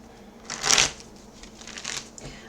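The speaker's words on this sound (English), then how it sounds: "I just want to shuffle these a couple times here." Tarot cards being shuffled by hand at close range, a quiet riffling burst followed by softer, lighter card rustles.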